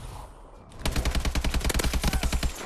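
Rapid automatic fire from an AK-12 rifle in a first-person shooter, a steady burst of about fifteen evenly spaced loud cracks after a brief quiet lead-in.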